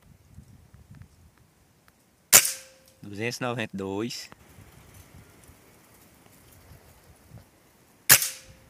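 A Reximex Zone air rifle with an unmodified hammer spring fires slug pellets over a chronograph: two sharp, close cracks about six seconds apart, with someone speaking briefly between them in a quiet room.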